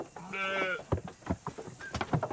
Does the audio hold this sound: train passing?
no